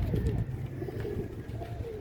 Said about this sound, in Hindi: ये देख लो ये कबूतरों को